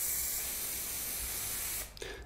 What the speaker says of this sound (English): There's a thin straw in the can and the aerosols will be on the bottom of the can, and you will spray only aerosol,